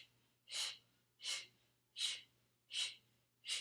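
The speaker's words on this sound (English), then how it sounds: "Keep breathing. Big exhales." Heavy breathing during an ab workout: five strong, rhythmic exhales roughly every 0.7 seconds, close and loud, with no talking.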